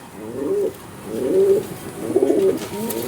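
A single female high-flying pigeon coos three times at a pigeon sale in Budge Budge, South 24 Parganas. The low, soft, evenly spaced coos sound close by over a faint room hum.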